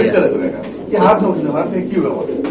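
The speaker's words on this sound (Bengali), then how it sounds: "এত সুন্দর মন্ডিয়ান কবুতর" Mundian pigeons coo softly at close range in a pigeon market, with low, throaty calls mostly buried under continuous nearby talking.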